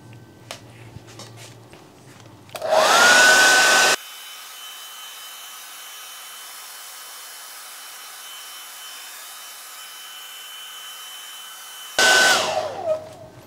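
A hair dryer speed-drying a watercolor cityscape painting blows loud and steady for about a second and a half, cuts off, then starts again briefly near the end, with quiet room tone between the bursts.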